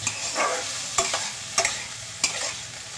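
Vegetables frying and being stirred in a pan for Maggi with egg, a steady sizzle broken by several sharp scraping stirs at regular intervals, close and fairly loud with no talking.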